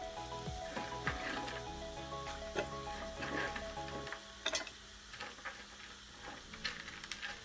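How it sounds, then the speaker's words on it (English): Vegetables sauté in a pan as the base for a fish bone broth, a soft steady sizzle with occasional stirring scrapes, faint and close, with no talking. "I'm gonna saute all of this."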